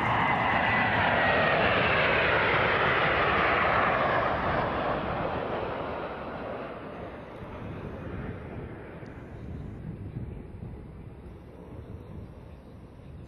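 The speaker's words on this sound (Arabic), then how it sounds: "الكتلة القادمة لطائرة K3 للتزود بالوقود، يرافقها طائرتين من F-15 الدفاعية وطائرتين من F-16" A KC-135 tanker aircraft escorted by F-15 and F-16 fighter jets roars overhead in an air force parade, loud at first, then its rumbling gradually fades as it passes into the distance.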